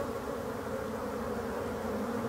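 Winter honeybees buzz loudly and steadily outside their hive in October, flying their orientation flight just after emerging, a dense continuous drone with no talk.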